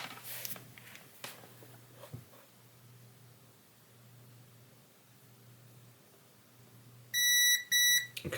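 A multimeter in continuity mode gives two short, sharp electronic beeps near the end while a Game Boy Advance SP circuit board is probed, after quiet handling and light tapping noises.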